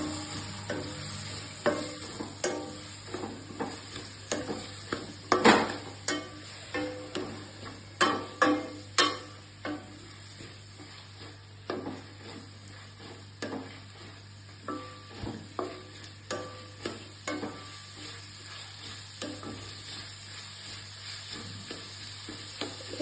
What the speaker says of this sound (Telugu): ఆనియన్స్ వేగినాయండి